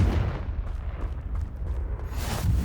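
A Confringo fire spell explodes in Hogwarts Legacy, a dull, rumbling blast that swells and lingers, with another burst toward the end, heard alone without talk.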